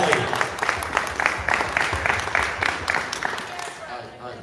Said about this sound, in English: Let's give them a round of applause for the beautiful family.